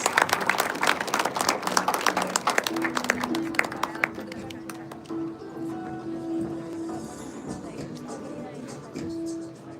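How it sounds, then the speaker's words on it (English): Guests at a corporate technology day event receive applause from the audience, a dense burst of clapping that thins out after a few seconds, with a steady tone lingering beneath. "A big round of applause for all of our guests."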